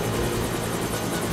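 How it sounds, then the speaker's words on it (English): A helicopter approaches in James Bond 007: Blood Stone, a loud, dense, steady rotor-and-engine roar filling the short moment without voices. "Helicopter inbound."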